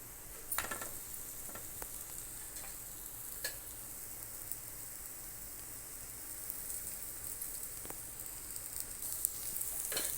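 Aloo paratha stuffed with potato filling frying on a hot tawa gives a steady, soft sizzle throughout, with occasional faint clicks and no talking.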